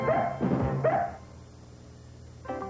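A dog barks in a Mighty Dog dog-food TV commercial: three loud, close barks in quick succession, then a brief pause and a shorter fourth yip, with no talking over them.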